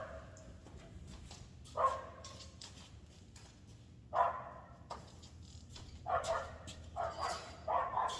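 An excited dog barks outside a doorway during crate training, several sharp yips and barks at moderate distance, coming in scattered bursts over a quiet background.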